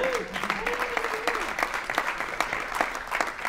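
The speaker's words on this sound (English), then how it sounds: "Maybe a round of applause for him." Applause at a manufacturing awards gala for a robotics and automation supplier guest, a crowd clapping steadily and fairly faint, with a voice speaking briefly over the start.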